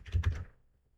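Several rapid keystrokes on a computer keyboard, close and moderately loud, entering a node name in animation software. A short burst fades out within half a second.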